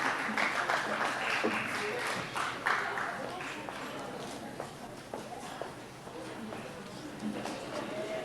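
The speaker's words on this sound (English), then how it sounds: "You deserve a round of applause." Audience at a 1998 awards night applauding athletes, a sustained patter of clapping from a room full of people, moderately distant and steady, with a voice speaking over it.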